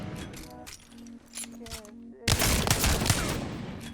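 Weapons fire in Apex Legends during crouched hipfire aim practice. A voice and light clinks come first, then a loud, dense burst of rapid automatic gunfire.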